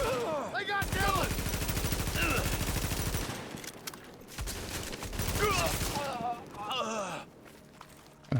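Rapid video-game gunfire and turret shooting in sustained automatic bursts, loud and close, with shouted voices breaking in between the volleys.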